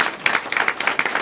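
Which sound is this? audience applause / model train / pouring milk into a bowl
audience applause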